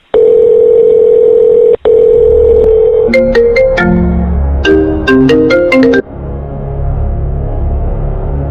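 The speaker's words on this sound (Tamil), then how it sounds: "ஃபோன் வருதுண்ணா." A loud steady telephone tone is interrupted by a short break, then gives way to a rapid melodic run of electronic beeps before fading into a low background hum.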